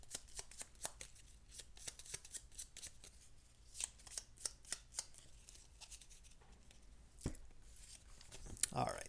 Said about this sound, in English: I guess I should be shuffling these face down instead of face up.